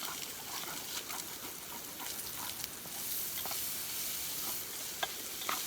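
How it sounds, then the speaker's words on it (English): Shrimp fry in butter in a pan at a backcountry camp cookout while a spatula stirs and slices them, giving a constant close hiss of sizzling broken by light scraping and stirring clicks. "I'm just gonna mix up my shrimpies here"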